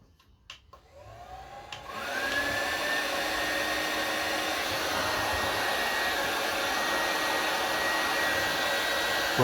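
A Wagner Furno 500 heat gun switches on after a few faint clicks and settles into a steady, loud rushing blow with a fan whine, running continuously and close by with no talking.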